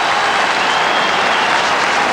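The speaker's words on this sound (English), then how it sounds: "There's a big, huge cheer." A huge crowd at a 1994 All-Ireland hurling semi-final between Offaly and Galway roars and cheers, a dense, loud, sustained wash of noise filling the stadium.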